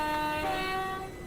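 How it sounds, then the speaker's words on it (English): Class 377 electric multiple unit horn in a train simulator game, a steady two-tone blast held for over a second, loud and close with no talk. "The horn's a bit interesting"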